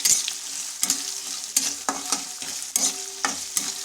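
Onion frying with curry leaves in a pan sizzles steadily while a spoon scrapes and stirs in repeated sharp strokes, close and clear with no talking.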